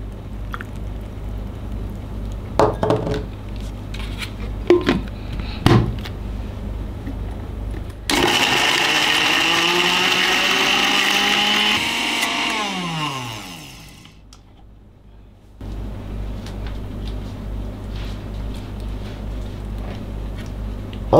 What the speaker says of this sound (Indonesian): bumbu-bumbu ini kita akan haluskan menggunakan blender dari IDEALIFE